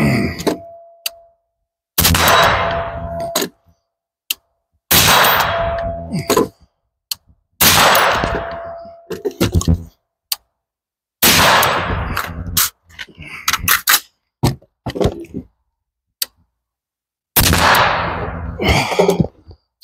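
General-purpose carbine rifle firing during barricade training outdoors: about six loud, sharp shots spaced a couple of seconds apart, each with a ringing decay, plus fainter metallic clinks and handling noises between them.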